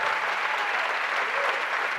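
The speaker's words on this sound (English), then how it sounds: "a big round of applause" Audience applause at an AI film festival fireside chat in New York, a steady dense wash of clapping from a crowd that fills the whole moment without letup.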